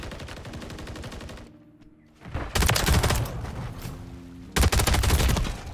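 Loud, close bursts of automatic gunfire in a Modern Warfare 3 Search and Destroy match: a sustained volley, a short lull, then two more heavy bursts of rapid shots.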